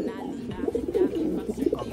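A large male pigeon coos close by, with low rumbling, throaty coos repeating over about two seconds and a faint voice in the background.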